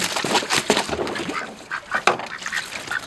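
Ducks and geese in a barn quack and honk repeatedly at close range, a busy overlapping chorus of calls with no talking.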